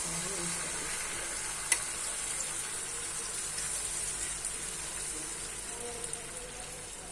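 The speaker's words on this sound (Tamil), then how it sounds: "இப்போ நாங்கள் அதே கல்லில் முட்டையும் பொரிச்சு எடுத்துக்கலாம்." Egg frying on a hot stone griddle, a steady close sizzle with faint crackle throughout and one sharp tap partway through.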